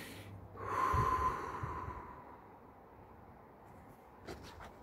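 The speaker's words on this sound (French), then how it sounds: "Prendre des respirations lentes et profondes." A single deep breath, a slow audible inhale that swells and then fades into a soft exhale, close and quiet with no talk.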